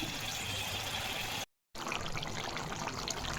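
Water pours into a cooking pan of potol and shrimp curry, a steady close trickling stream that cuts out for a split second and then resumes.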